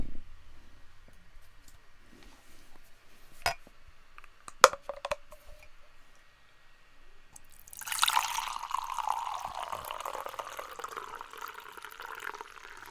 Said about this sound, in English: Just pour it without looking like I'm a bartender.